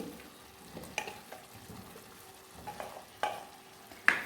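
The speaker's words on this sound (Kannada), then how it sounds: "ಈಗ ಇದಕ್ಕೆ ಬೇಯಿಸಿದ್ದು ಮರಗೆಣಸಿದೆಯಲ್ಲ ಅದನ್ನು ಹಾಕಿ ಮಿಕ್ಸ್ ಮಾಡಿ" Boiled cassava is stirred into a spiced masala in a pan. A quiet sizzle sits under intermittent spoon scrapes and clinks against the pan, with a sharper knock at the end.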